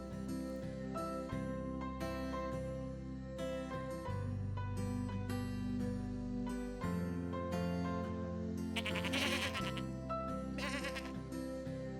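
Sheep bleat repeatedly over steady background music with sustained tones. The animal calls sit in the middle distance and recur at intervals, with no voices.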